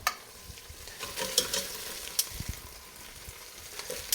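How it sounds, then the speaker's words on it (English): Beef short ribs go back into a hot pan, a bright sizzling hiss with clattering thumps and scrapes as the pieces are stirred and moved around, close and fairly loud with no talking. "we are going to add our short ribs back in"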